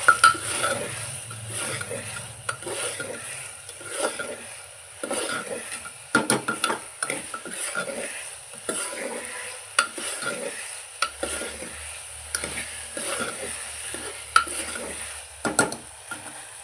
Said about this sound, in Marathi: मीठ चवीनुसार हे सगळं व्यवस्थित मिक्स करून घ्यायचं